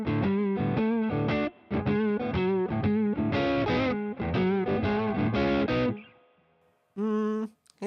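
Electric guitar playing a blues riff through an AI-generated distorted tone, loud choppy chords and bends for about six seconds, then a pause and a final stab.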